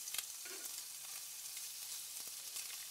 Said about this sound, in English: need to give them a quick sauté, definitely add a pinch of salt